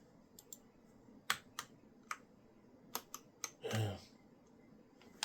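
Several crisp, irregularly spaced keystrokes on a computer keyboard during an attempt to open Task Manager, each click sharp and close, with a brief louder clatter of rapid presses near the end.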